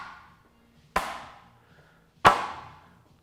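Two firm hand slaps on the side of a speaker cabinet, about a second apart, each a close, bright knock with a quick ringing tail, the second slightly louder; no talking.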